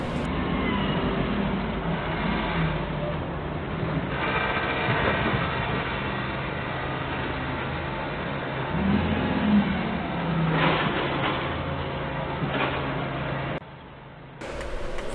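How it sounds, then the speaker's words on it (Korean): Cars pass one after another along a busy road where a forklift waits, a continuous wash of engine and tire noise with vehicles swelling and fading, some accelerating nearby, dropping off briefly near the end. "지금 차가 끊임없이 이쪽으로 지나가고 있죠"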